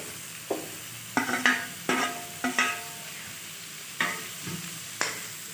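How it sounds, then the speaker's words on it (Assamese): Radish and potato pieces fry in a pan, with repeated scraping stirring strokes in short bursts over a soft background sizzle. "এতিয়া মই মূলা আৰু আলুখিনি ভাজি ল'ম"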